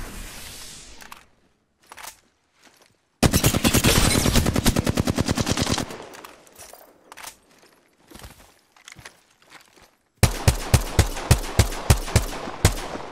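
Bursts of automatic gunfire in the video game Apex Legends: short scattered shots, then a long dense rapid burst, then a series of heavy evenly spaced booming shots, all loud and close.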